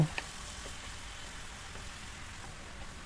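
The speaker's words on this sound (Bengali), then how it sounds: "এবার আমি একটু নেড়ে চেড়ে কষিয়ে নেব" Mushrooms stir-fried with spices give a faint, steady sizzle in the pan, opening with a brief scrape or clink before settling into a soft, continuous frying hiss.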